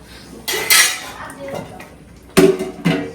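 A cooking pot is stirred, producing two separate bursts of metallic scraping and clanking against the pot, with quieter gaps between them.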